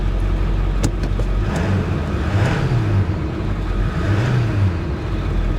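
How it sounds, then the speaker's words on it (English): Turbo whistle and engine of a 1999 Ford F350 pickup with a 7.3L PowerStroke diesel, a steady loud rumble with rising and falling whine tones, heard from inside the cab with no talking. "Hear that turbo?"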